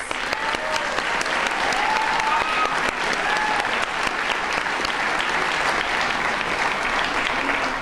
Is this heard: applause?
yes